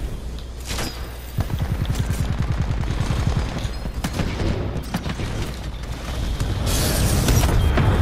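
Shotgun fire in a video game, heavy booming shots amid a steady rattle of mechanical clatter and rapid firing, loud and close, with a voice heard only briefly.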